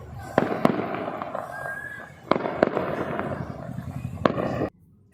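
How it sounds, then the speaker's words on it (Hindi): Firecrackers set off to celebrate Eid: about five sharp, loud bangs at irregular intervals over a crackling, sizzling background that cuts off abruptly into quiet at the end. "चांद दिखने के बाद मुस्लिमों ने पटाखे छोड़ ईद की खुशियां मनाई।"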